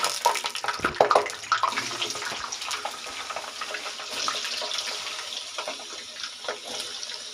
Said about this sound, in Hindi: अब हम इसमें आलू डालते हैं